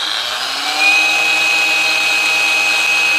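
A Kapusi brushless cordless 21V angle grinder running unloaded at high speed gives a steady high-pitched whine that climbs slightly as it spins up, then holds constant.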